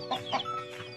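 Chickens cluck softly in a few quick, short bursts over a faint steady background hum, brief and somewhat distant.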